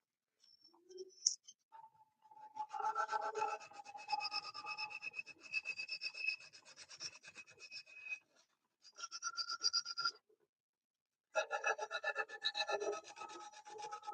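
Sandpaper is rubbed against a Rubik's Clock in quick back-and-forth strokes, giving a close, dry scratching rasp in bursts separated by short pauses.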